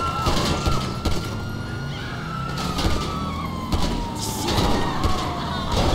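A police siren in a GTA V video game wails, rising and falling continuously beneath engine noise and sharp bursts of sound, with brief talking over it.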